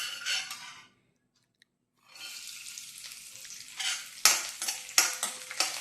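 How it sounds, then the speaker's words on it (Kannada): Raisins and cashews frying in ghee over a low flame give a soft, steady sizzle with a few stirring scrapes. A silent gap comes first, then the frying resumes and grows louder, with sharper clinks near the end. "ಇದು ಲೋ ಫ್ಲೇಮಲ್ಲೇ ನಾವು ಫ್ರೈ ಮಾಡ್ಕೋಬೇಕು"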